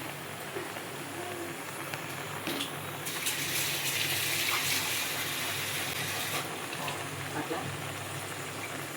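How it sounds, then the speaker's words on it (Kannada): A glass of water is poured into a cooking pot while chicken fry is being made. The splashing pour runs steadily for several seconds, with a louder gush in the middle and a voice talking over it. "ಇವಾಗ ಇದಕ್ಕೆ ನಾನಿಲ್ಲಿ 1 ಲೋಟದಷ್ಟು ನೀರು ಹಾಕ್ತೀನಿ."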